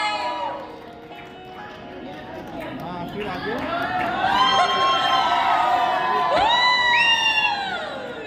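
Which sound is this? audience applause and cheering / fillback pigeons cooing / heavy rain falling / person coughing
audience applause and cheering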